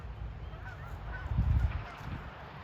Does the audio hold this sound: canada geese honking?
yes